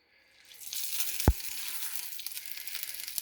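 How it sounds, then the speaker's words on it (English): Salmon patties dropped into a hot pan, a brief thump followed by a steady, moderately soft sizzle of frying. "the last thing left to do is fry them up"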